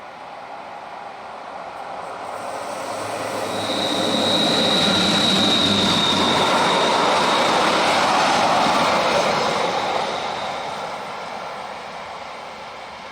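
Freight train hauled uphill by locomotive 704, a 1960s-built class on the Rhaetian Railway, rising from a distant rumble to a loud, steady roar with a high whine as it passes, then fading again.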